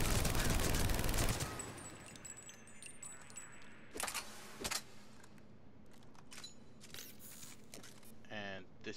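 The Typhoon gun in the Mass Effect 3 video game, a dense rapid-fire burst that cuts off abruptly, followed by scattered sharp clicks and mechanical bursts at moderate loudness.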